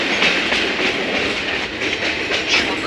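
A Conway Scenic Railroad passenger car rolling along the rails in New Hampshire, a loud, steady rumble and rattle heard from inside the moving carriage with no voices.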